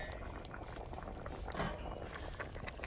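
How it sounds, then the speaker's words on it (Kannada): Fish curry simmering in a pot over a low flame, a soft continuous bubbling with faint pops and small ticks, close and quiet with no voices. "ಇನ್ನೊಂದು ಕಡಿಮೆ ಉರಿಯಲ್ಲಿ ಒಂದು 5 ನಿಮಿಷ ಕುದಿ ಬರಲಿ"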